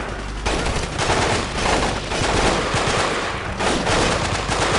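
Dense, continuous automatic gunfire in the video game Delta Force: Black Hawk Down, loud and rapid, with bursts overlapping for several seconds like a heavy firefight.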